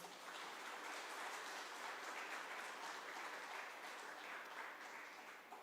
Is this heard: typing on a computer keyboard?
no